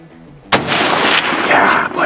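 A single loud rifle shot fired at a bear on a spring spot-and-stalk hunt in the British Columbia mountains, with a sharp blast followed by a long rolling echo.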